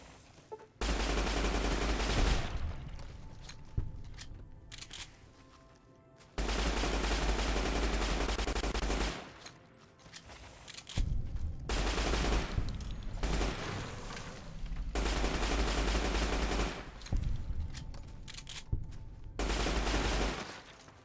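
Heavy, powerful gun firing in Fallout: New Vegas: loud sustained bursts of rapid booming shots separated by brief pauses, repeating several times with no talking.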